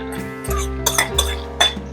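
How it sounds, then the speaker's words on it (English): Garlic and onions stirred together in a frying pan give off a few light metallic clinks and scrapes of utensil against pan over a steady low hum, with some taps louder than others. "I'm gonna already mix it up my garlic and my onions"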